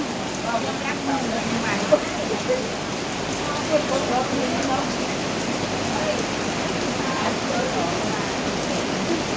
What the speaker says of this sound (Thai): นตกแรงมากเลยนะคะ